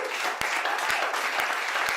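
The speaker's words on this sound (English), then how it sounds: "the only thing I require from you now is to just give that clap for my son" Audience at an entrepreneurs' event in Ilorin, Kwara State, clapping in a dense steady applause, with a few sharper individual claps standing out in a regular rhythm.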